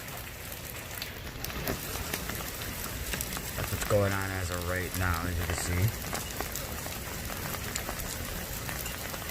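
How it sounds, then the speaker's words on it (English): Rain falls steadily during Tropical Storm Cristobal, a continuous outdoor hiss heard under someone talking throughout. "it is raining out here"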